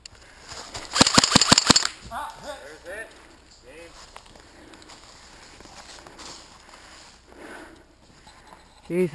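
Airsoft guns fire a rapid burst of sharp cracks outdoors during a two-on-two team deathmatch, followed by scattered quieter clicks and players talking.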